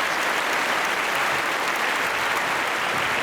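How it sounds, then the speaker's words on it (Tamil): Studio audience applauding on a Tamil family game show, a dense, steady wash of clapping that stays loud and even from start to finish with no voices standing out. "நிச்சயமா உங்களுக்கு நம்ம கரகோஷத்தை கொடுப்போம்."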